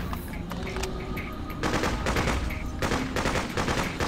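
Rapid bursts of automatic gunfire from the video game Freedom Fighters crackle loudly and almost continuously, with denser volleys near the end.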